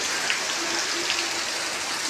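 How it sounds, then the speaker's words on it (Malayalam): Steady rain falling on a morning that has just begun to ease off, a dense, even hiss that continues without a break and with no voices over it. "രാവിലെ തുടങ്ങിയ മഴയാണ് കേട്ടോ ഇപ്പോഴാണ് കുറച്ച് കുറഞ്ഞത്"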